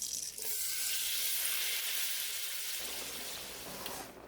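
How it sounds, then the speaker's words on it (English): Collard greens hiss and sizzle steadily in a hot pan over medium heat, a loud, continuous frying crackle that eases slightly toward the end. "I'm going in with the collards. They're going to sizzle."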